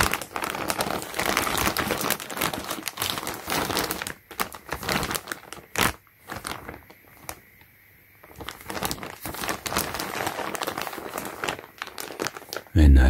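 A reusable Ziploc plastic bag that comes with men's shorts and a hoodie crinkles loudly and continuously up close, pausing briefly in the middle before resuming, with a voice speaking softly at times.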